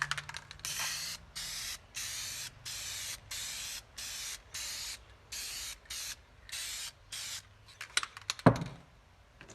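Dupli-Color vinyl and fabric spray paint hisses from an aerosol can in about a dozen short, even bursts applying a second red coat to carpet, close and steady, ending with a few quick clatters.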